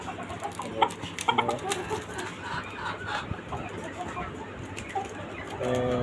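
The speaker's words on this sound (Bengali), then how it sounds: "এটা আপনার মোরগ এটা অনেক দুষ্ট, মুরগি না থাকলে অনেক চিল্লাচিল্লি করে।" Rooster and hens on a rooftop farm in Dhaka, Bangladesh, clucking repeatedly at close range in short, busy bursts, with a person talking in between.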